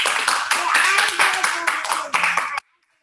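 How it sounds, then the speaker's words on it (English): A round of applause for a logo competition winner at a live online forum for the International Day of the Girl Child, steady clapping close by with voices mixed in, cutting off abruptly before the end. "Let's give Harsha a round of applause, please"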